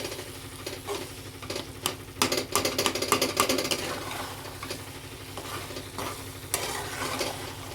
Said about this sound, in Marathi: खवा आणि साखर चांगलं एकजीव करून घ्यायचं आहे